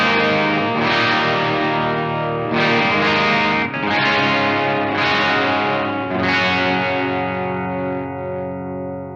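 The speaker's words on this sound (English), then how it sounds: "the thing that makes this guitar sound pretty exceptional to me is it has Gibson custom buckers" Electric guitar with Gibson Custom Bucker pickups played distorted, several loud ringing chords struck in sequence about every second and a half, each sustaining before the last one fades out.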